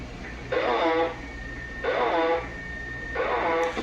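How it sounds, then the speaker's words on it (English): Ranger echo board built into a Galaxy DX2547 base station CB radio, giving three loud, echoing radio voice bursts with a repeating reverberant tail, separated by short gaps of hiss. "that sounds like a Ranger Echo board"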